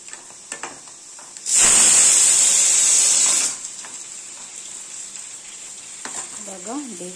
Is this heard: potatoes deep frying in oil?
yes